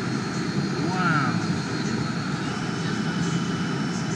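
A CNC machine spindle spinning at 18,000 RPM at a trade show, a steady high whine with a brief rising sweep, heard over busy hall noise while people talk nearby.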